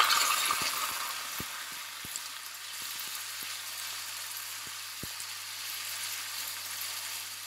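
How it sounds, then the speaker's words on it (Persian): Prepared potatoes fry in hot oil with a soft, steady sizzle, dotted with scattered sharp pops and crackles at an even, moderate level. "روغن که کامل داغ شد، سیب زمینی های آماده شده رو به روغن اضافه میکنیم و"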